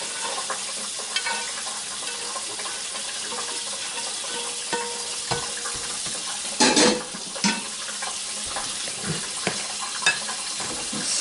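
Ground beef is stirred into a cheese mixture in a pan with a low, continuous sizzle and occasional clatters and scrapes of utensil on metal.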